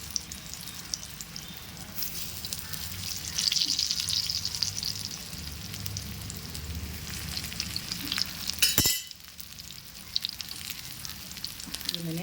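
Chicken keema cutlets fry in hot oil, giving a soft, continuous bubbling sizzle at moderate distance that swells for a few seconds before a brief sharp clatter near the end.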